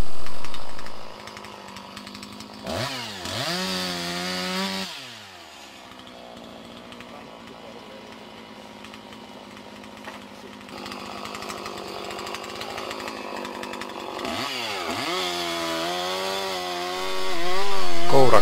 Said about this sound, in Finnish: tehdään kaatosahaus.